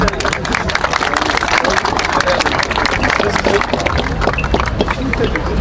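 Audience applause at the unveiling ceremony of a statue of footballer Pablo Martín Batalla in Bursa, a dense, steady crowd clapping that runs loud and continuous throughout, with a faint murmur of voices beneath.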